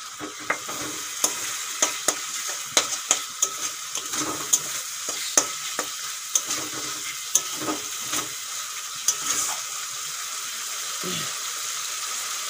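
Small chicken pieces fry in cooked-down spices for a chicken ghugni, a steady sizzle broken by repeated sharp clacks of a utensil stirring the pan.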